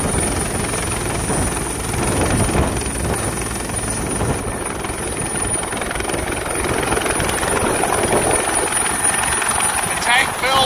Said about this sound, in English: sucking the water up into the belly of the helicopter